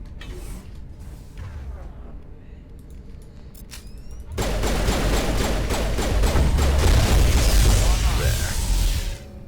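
Pistol gunfire in the video game Mass Effect Legendary: after a quieter stretch of mechanical creaks and clicks, a loud burst of repeated shots and impacts starts about halfway in and keeps going.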